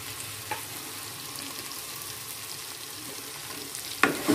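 Shrimp frying for sambal goreng sizzles in a steady, close hiss, with a faint stir near the start and a louder scrape of the utensil near the end, with no talk.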